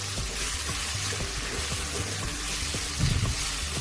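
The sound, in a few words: taakla leafy greens sautéing in a pan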